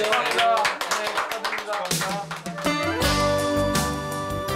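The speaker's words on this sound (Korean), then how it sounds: "잠깐만요, 박수" A small group of six people claps hands during a celebratory toast, the claps mixed with chatter and background music throughout.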